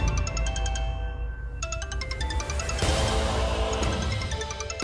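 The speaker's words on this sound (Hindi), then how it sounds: "तुम्हारा ही फोन बज रहा है।" Mobile phone ringtone playing a repeating electronic melody indoors, steady and fairly loud with no talk over it.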